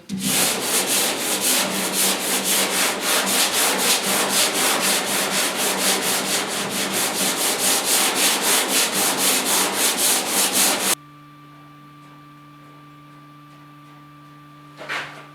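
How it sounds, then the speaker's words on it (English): Rhythmic back-and-forth rasping of a profiled sanding block on the cab bodywork of a 1972 Ford F100, fast regular strokes for about eleven seconds, then near silence with a faint hum. "Just using my profiled sanding block there for the long stretches."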